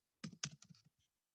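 A short, quiet burst of typing on a computer keyboard, about eight quick close keystrokes in an uneven rhythm followed by one softer tap.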